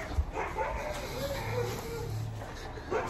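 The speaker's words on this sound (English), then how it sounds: "Seeing the dogs are barking" Dogs bark and yip faintly in the distance outdoors near a home workshop, a few scattered short calls under low background noise.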